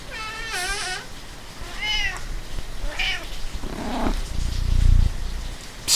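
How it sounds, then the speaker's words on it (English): A cat gives three rising, plaintive meows close by, followed by a low, rumbling purr that swells toward the end. "Stupid cat. Where the hell did you come from?"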